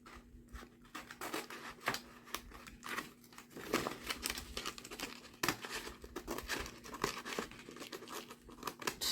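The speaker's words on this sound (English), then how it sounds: "I would just take a little off, cut it right here" Paper being cut and handled for a glue book, close crisp snips and crinkling rustles in an uneven rhythm, fairly quiet, with a faint steady hum underneath.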